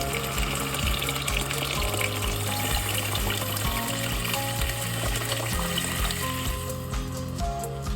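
Water poured into a pot of cauliflower tomato kurma during one-pot cooking gives a steady, continuous rushing hiss, partly masked by background music.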